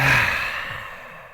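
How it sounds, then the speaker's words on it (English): A long, breathy lion's-breath exhale out through the mouth during a yoga flow, starting strong and fading slowly, close and alone with no talking. "We'll take a lion's breath, so big breath in through the nose and out the mouth."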